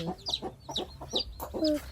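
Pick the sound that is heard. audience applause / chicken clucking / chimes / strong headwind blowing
chicken clucking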